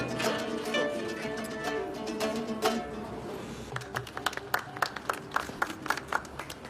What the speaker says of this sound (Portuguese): Na recepção, música e aplausos.